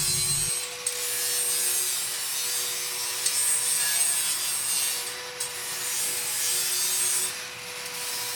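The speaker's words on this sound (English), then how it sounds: "Grind all the sharp edges smooth with an angle grinder." An angle grinder smooths the sharp edges of a steel welding table, a loud continuous high-pitched rasping whine held steadily with slight rises and dips in pressure and no talk.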